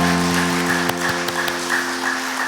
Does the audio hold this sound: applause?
yes